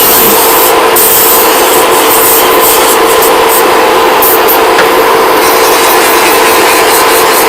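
A nail file rasps steadily against acrylic nails being filed down, a loud, continuous close-up rubbing that runs without pause and carries a faint steady hum underneath.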